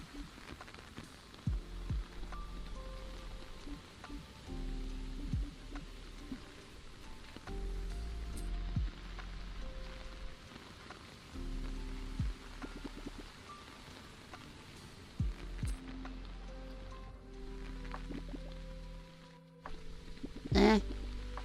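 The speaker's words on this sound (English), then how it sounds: "the rain sound isn't really that comforting" Steady, faint rain hiss in a video game, continuous and soft beneath gentle tonal music, with no voices.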